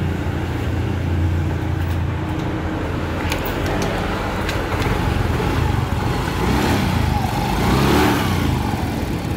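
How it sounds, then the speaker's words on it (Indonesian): A Yamaha Xtride 125 motorcycle that sputters and loses power under throttle is started and runs with a steady, fairly loud mid-pitched engine drone and a swell of revving near the end. "Ini saya coba starter dulu."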